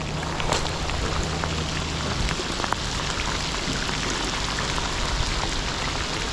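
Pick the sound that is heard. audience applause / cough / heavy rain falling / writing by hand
heavy rain falling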